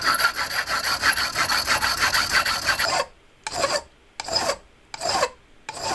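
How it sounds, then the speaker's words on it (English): A hand saw cuts through bicycle fork legs to trim them to length. Rapid continuous rasping strokes give way to four separate slower strokes with short pauses between. The sound is close and clear, with no talk. "trim them to the final length and work out where to cut the legs to get my desired fork length"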